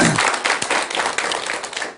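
A short, dense burst of audience clapping at a Buddhist monk's dharma lecture, loud and close, lasting about two seconds.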